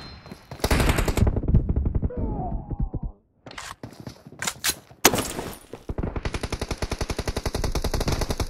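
SKS rifle gunfire in the mobile battle-royale game PUBG Mobile: bursts of sharp shots, then a quieter stretch, a few isolated loud cracks, and a steady rapid string of shots to the end, with game sounds around.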